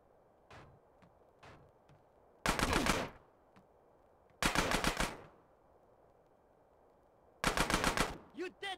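Three loud automatic-weapon bursts ring out in GTA San Andreas, each lasting about half a second, separated by quieter pauses holding a few faint single clicks and shots.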